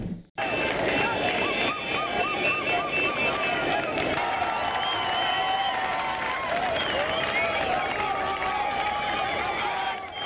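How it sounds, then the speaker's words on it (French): A huge, compact crowd in Chad welcoming returning FATIM troops back from their mission in northern Mali: continuous loud crowd noise with shouting, clapping and high trilling voices, with speech heard over the din throughout. "Le retour triomphal des Fatim a mobilisé une immense foule"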